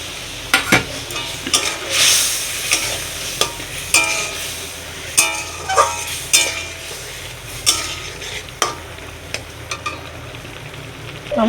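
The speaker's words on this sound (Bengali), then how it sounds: "ঝোলটা ফুটছে" Jackfruit seed curry with milk and water bubbling and sizzling in a pan, with a series of sharp spoon stirs and clinks against the metal at irregular intervals over a steady cooking hiss, no talking.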